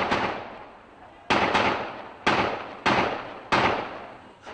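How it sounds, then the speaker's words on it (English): Several loud gunshots ring out at uneven intervals along Doyle Avenue in Santa Cruz, each sharp crack followed by a long echoing decay, with a few quicker shots near the end. "Officers exchanged rapid gunfire along Doyle Avenue."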